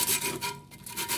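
Coarse tool or sandpaper scrubbed by hand across a rusty metal plate from a salvaged water pump, a series of short rasping strokes in an uneven back-and-forth rhythm, close and fairly quiet.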